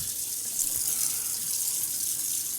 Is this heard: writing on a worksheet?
no